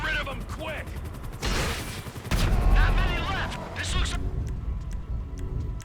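Bursts of gunfire and booming car explosions in Grand Theft Auto V during a convoy heist, with chaotic mechanical noise and a voice talking over the action throughout.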